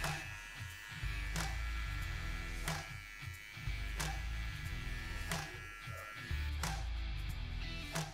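Electric hair clipper fitted with a 1.5 guard comb trims a beard, buzzing steadily and close up in several short passes separated by brief pauses.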